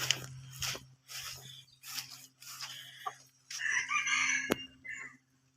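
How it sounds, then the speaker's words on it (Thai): Chickens cluck in short bursts, then a rooster crows loudly and nearby, with some low background hum. "นี่ก็ไก่พ่อผมว่าเพิ่งไปได้มา"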